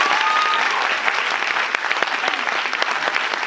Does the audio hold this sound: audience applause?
yes